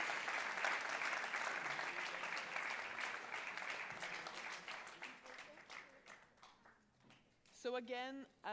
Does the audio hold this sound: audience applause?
yes